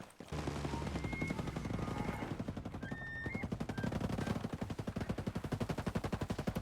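Rapid, sustained shotgun and automatic gunfire in the game Ghost Recon Breakpoint, dense repeated blasts with faint tonal game sounds behind, the shots growing sharper and more evenly spaced toward the end.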